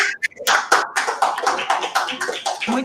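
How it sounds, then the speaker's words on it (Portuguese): A classroom of students applauds a student group in an agriculture management class, with brisk, close claps and taps rattling along under mixed voices and chatter. "Cadê as palmas da galera?"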